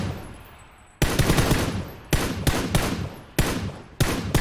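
Bursts of M4 rifle fire in a video game: four loud automatic volleys, each starting with a sharp attack and rattling for about a second, separated by short pauses.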